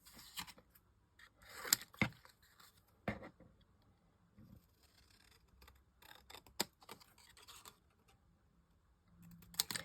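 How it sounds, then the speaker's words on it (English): Long-bladed scissors cutting paper, a series of quiet, sharp snips and crisp clicks in irregular bursts with pauses between, close but faint against a near-silent background. "Just cut these out with my long bladed scissors."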